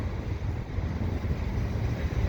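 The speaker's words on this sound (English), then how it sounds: "Unfortunately, it's kind of windy." Wind blowing on a gray winter day at a rail crossing on Cote De Lyesse Blvd in Dorval, a steady low rumbling buffet across the microphone throughout, fairly loud with no talk.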